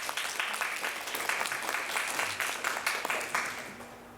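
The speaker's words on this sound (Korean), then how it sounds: "우리 한번 박수 한번 부탁드리겠습니다." Congregation applause during a Sunday church service, a moderate, somewhat sparse clapping of many hands with distinct individual claps, steady for several seconds before thinning toward the end.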